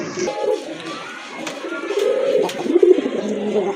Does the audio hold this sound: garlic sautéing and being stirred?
no